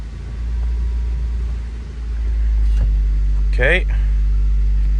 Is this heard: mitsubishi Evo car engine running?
yes